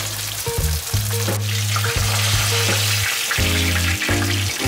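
Breaded sole fillets fry loudly in a pan, a dense close crackle and sizzle running throughout with a recurring low humming drone, no speech.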